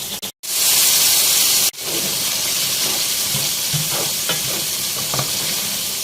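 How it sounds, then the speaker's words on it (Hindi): Afghani chicken karahi stirred and roasted in a pan, a loud steady sizzle with scraping stir strokes throughout, briefly broken by short gaps near the start. "जितने अच्छे से आप इसको यहाँ भूनेंगे उतनी ही अच्छी हमारी कढ़ाई बनेगी"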